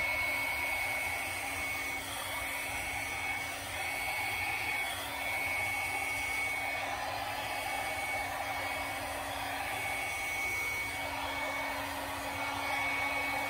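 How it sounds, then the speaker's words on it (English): A small travel-size hairdryer blows steadily to spread wet earth-tone paint, a continuous close airy whir holding level for the whole stretch with no talking. "Now we are going to use the travel size hairdryer to spread that out."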